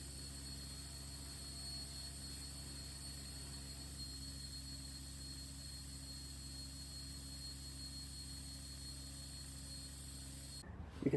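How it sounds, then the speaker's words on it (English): A grinder's buffing attachment with pink scratchless compound polishes a desert ironwood knife handle, giving a faint, steady, even motor whine that runs unbroken before a brief louder scuff at the very end. "we're going to take that to another level by using the buffing attachment on my grinder with some pink scratchless buffing compound"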